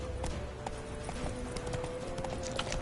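Roach the horse's hooves clip-clop in a steady running rhythm within The Witcher 3 video game, close and continuous over a held musical drone, with no talk.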